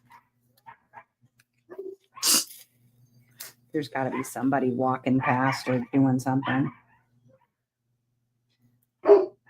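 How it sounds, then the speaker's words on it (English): Dogs on a porch give a few sharp, short barks at a distance, separated by stretches of a person talking nearby. "I don't know if you can hear them barking on the porch."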